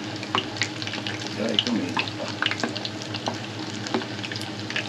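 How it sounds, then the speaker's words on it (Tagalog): Fried chicken crackles and sizzles in a hot pan with scattered sharp pops over a constant hiss, while a voice speaks briefly nearby. "Masarap kaya ang ating fried chicken"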